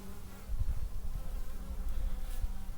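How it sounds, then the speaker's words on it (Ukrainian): Honeybees fly around their hives at an apiary in late autumn before winter, a steady close buzzing hum with no voices. "Літає бджілка, вітерець здує."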